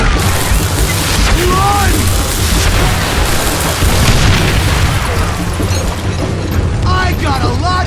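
Dynamite blasts from a Call of Juarez Gunslinger shootout, loud continuous booming and rumbling throughout with dense broadband noise, while voices shout over the explosions.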